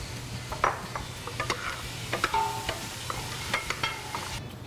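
Onions sautéing in a pan for clam chowder, a low sizzle with scattered stirring scrapes and utensil clicks, close and moderately quiet, no speech.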